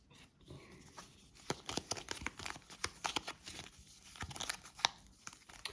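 A deck of Darkest Dungeon board game cards is shuffled by hand, a run of crisp, papery riffles and snaps in uneven bursts, close and quiet, with no talking over it.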